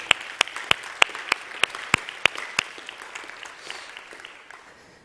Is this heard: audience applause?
yes